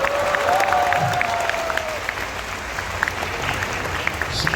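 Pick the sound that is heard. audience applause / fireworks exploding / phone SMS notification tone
audience applause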